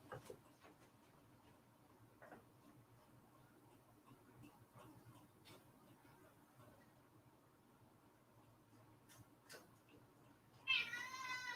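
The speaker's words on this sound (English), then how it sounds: "In the meantime, a cat will entertain you." A cat meows near the end during a livestream, a close, fairly loud call after a long stretch of faint room noise and small scattered clicks.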